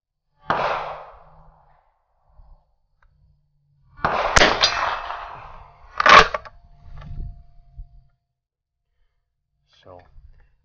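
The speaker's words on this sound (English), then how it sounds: "spend these last 2 rounds on the gong here." A steel gong struck by .22 Short rounds fired from a Schmidt Rubin biathlon rifle gives several sharp metallic clangs with brief ringing, separated by quiet gaps, with a faint crack of gunfire.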